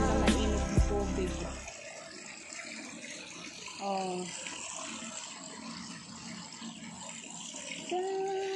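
Hot spring water at Awaji Island, Osaka, flows and trickles steadily at low volume, a soft continuous wash with a brief sound at the very start.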